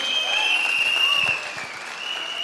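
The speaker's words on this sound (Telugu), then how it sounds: "గౌతమ్ బాలి సార్కి ఒకసారి జోరు గల క్లాప్స్ ఇద్దాం" An audience at a business seminar applauding, a dense burst of clapping from a crowd that holds steady and then thins slightly toward the end.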